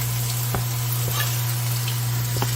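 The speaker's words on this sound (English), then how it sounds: "I'm going to put this in the skillet really quick with some olive oil" Vegetables for a homemade BBQ sauce fry in olive oil in a skillet with a steady, close sizzle, broken by a few light stirring clicks and a constant low hum, with no voices.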